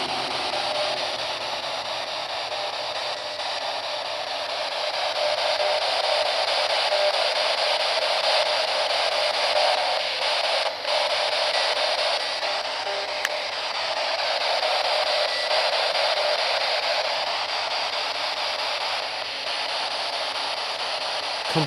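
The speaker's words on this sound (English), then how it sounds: "I used the SB11 spirit box to try and make further contact." An SB11 spirit box radio sweeps through stations, giving a steady, loud wash of hissing white noise that continues unbroken for about twenty seconds, with occasional brief clicks.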